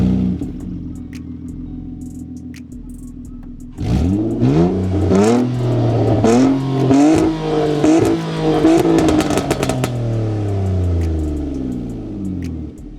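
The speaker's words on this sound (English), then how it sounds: "The car sounds pretty good. Let me start it up for y'all." A Nissan Altima fitted with a Flash Shark exhaust cranks to life after a quiet few seconds, then is revved repeatedly at idle, loud and close, with rising and falling engine sweeps and crackles and no talking.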